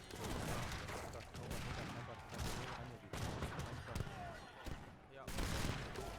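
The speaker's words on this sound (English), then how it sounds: "cannon!" Cannon fire booms repeatedly in an Age of Empires III: Definitive Edition historical battle at Fort Duquesne, dense bursts of gunfire and blasts layered over one another, with someone briefly commenting.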